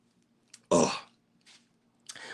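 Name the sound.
throat clearing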